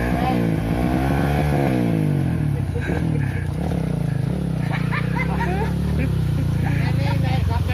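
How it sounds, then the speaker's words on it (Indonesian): A motorcycle rides along a road on the way to a waterfall, its engine droning loudly and continuously, with a passing engine rising and falling amid voices talking over it. "Ini naik sepeda motor."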